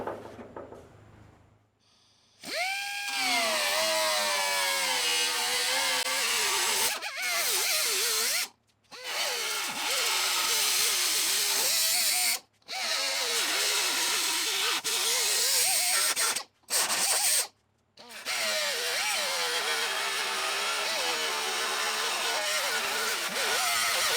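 A power tool cuts a section out of a metal Model A trunk lid during repair, a loud sustained buzzing grind running in long bursts with several brief pauses, close and alone.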